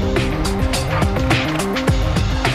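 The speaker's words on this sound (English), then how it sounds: "We got the engines cranked." Boat engines cranked and running on a heavy-metal salvage job, a loud, continuous droning rumble with layered tonal hum and rhythmic thumping pulses, close and dominant.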